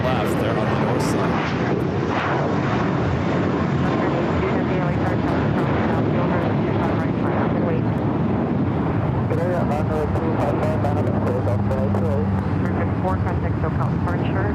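Jet airliner taking off on runway 24 left at LAX, a loud continuous roaring engine rush filling the whole stretch, with radio-style talk over it.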